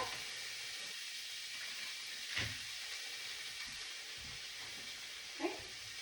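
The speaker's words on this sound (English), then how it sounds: "You can hear that nice sizzle." Steady close sizzling hiss of meat frying in a pan, with a couple of brief clinks or scrapes over the constant crackle.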